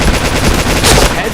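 Rapid automatic gunfire in a video game mission rattles loudly and close in a dense burst, with a voice briefly over it.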